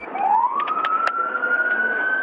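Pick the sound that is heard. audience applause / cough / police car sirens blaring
police car sirens blaring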